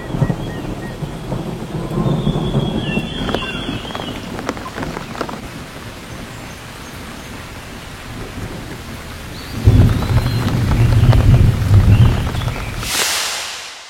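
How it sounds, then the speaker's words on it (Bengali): Sudden rain in the Darjeeling hills, clouds on the slopes: a steady wash of rain on surfaces with rumbling thunder, heavier downpour swelling near the end, with no voices. "মেঘেদের খেলা দেখতে দেখতেই হঠাৎ বৃষ্টি নেমে এলো।"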